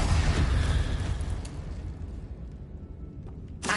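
Confringo blasting spell in Hogwarts Legacy, a loud explosive burst with a roaring rumble that slowly fades, followed by a sharp crackling hit at the end.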